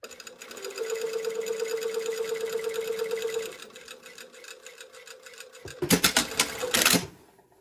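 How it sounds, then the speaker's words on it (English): A sewing machine stitches close to the fold of a tower sleeve placket. It runs in a steady, even burst for about three seconds, goes quiet, then gives a louder, rapid final run. "So I'm just stitching really close to the fold."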